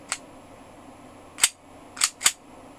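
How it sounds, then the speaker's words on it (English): Cocking a KJW Tomb Raider gas blowback airsoft pistol gives four crisp, close metallic clicks: one alone, then a pause, then three in quick succession, with nothing else heard. "Very nice click when you cock this gun."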